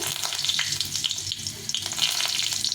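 Fenugreek seeds and two bay leaves tempering in hot oil for a bottle gourd dish, a close, steady sizzle with light crackles throughout.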